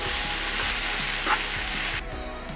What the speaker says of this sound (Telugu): ఇది మంచిగా ఫ్రై అవుతుంది కదండి. కొంచెం కలర్ కూడా మారుతుంది ఆనియన్స్కి.